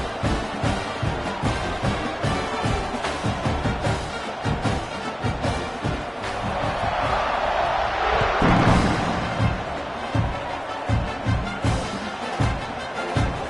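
A college football stadium crowd roars at kickoff in an Arizona State versus Oklahoma game, swelling to a loud sustained cheer midway with a commentator's voice over the top.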